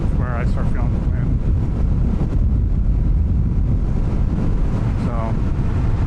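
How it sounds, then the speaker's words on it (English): Steady loud wind buffeting roars across a microphone while riding a Honda Rebel 1100 motorcycle at about 50 mph, the broadband rush continuous throughout with a voice talking over it at moments. "I'm up at the 47, 50 miles an hour, and like I said, right about here is where I start feeling the wind."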